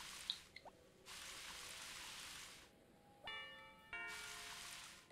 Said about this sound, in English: I wonder if you guys can hear all the rain that's raining in the back of my house.